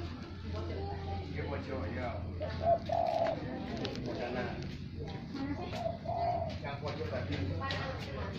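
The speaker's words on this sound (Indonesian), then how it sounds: "Ini ada burung-burung." Pigeons or doves cooing at a rural yard with a well, soft repeated coos over a steady low hum, with people talking throughout.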